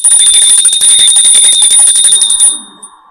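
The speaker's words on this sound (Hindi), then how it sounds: "घंटी की आवाज सुनाई दी" A loud, bright bell rings rapidly and continuously for a couple of seconds during a school drama performance, then stops and its tone fades away.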